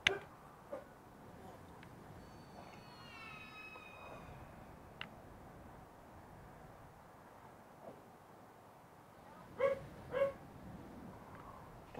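Small dog Ein lets out a few faint, brief whimpers and high yips scattered through a quiet room, with a short whining cry near the start and a pair of louder yips toward the end.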